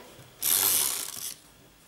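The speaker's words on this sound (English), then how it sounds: "So I'm going to adhere this with my regular Tumble Mono stamp runner" A short, crisp ratcheting rasp of a tape runner being pulled across paper, lasting under a second in an otherwise quiet setting.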